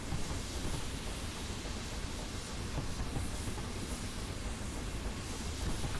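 A steam locomotive hauls its train in the Train Simulator 2018 game, giving a loud, continuous wash of rumble and hiss with faint rhythmic rail clatter and no pauses.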